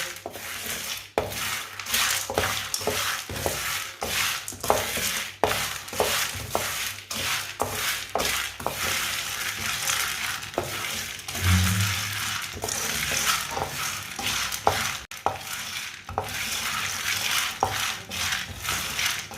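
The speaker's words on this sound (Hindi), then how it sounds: "कम आंच पर इसे ब्राउन कर लेना है, हल्का सा भून लेना है।" Chickpeas roasting in a pan over a low flame, with steady soft sizzling and a string of sharp scraping, clinking stirs repeating throughout, close and with no voices.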